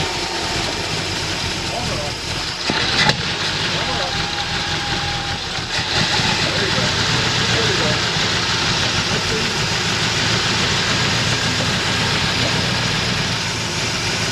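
A Ford 351C V8 idling in a Mercury Capri during a tune-up, a steady loud mid-range rumble running throughout, with a brief bump around the third second and people talking nearby over it.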